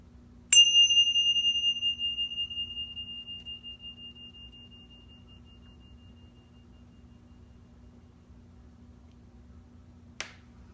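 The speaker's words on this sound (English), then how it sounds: "gently listen to the sound of the bell" A single bell is struck once and rings out with a clear, pure tone that slowly fades over several seconds, followed by a brief faint click.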